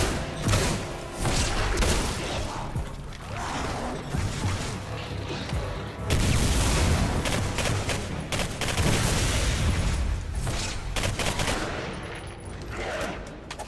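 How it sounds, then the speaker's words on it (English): Dense, continuous rapid gunfire and blasts from combat in the shooter game Singularity, loud and sustained with a shotgun among the weapons, heavy booming bursts layered with clattering impacts, with occasional voices. "Headshots with shotgun."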